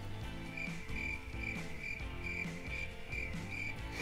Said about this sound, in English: but since then, crickets.